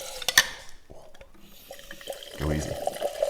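Nitro cold brew coffee poured from a pressurized canister, a sputtering, hissing gush of liquid that builds and splashes into a glass, close, with brief speech and handling noises around it.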